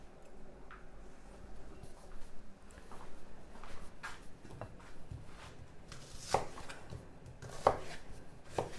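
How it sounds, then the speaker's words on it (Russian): Faint, irregular knife chops through an onion on a cutting board, a few sharper strikes standing out against quiet kitchen background noise. "Сначала лучок нарежем."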